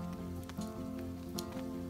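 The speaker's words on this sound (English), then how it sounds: "Hey, guess what? It's raining again." Steady rain falling at a wilderness campsite on a solo canoe trip in Temagami, a dense even patter that stays close and constant with no talking.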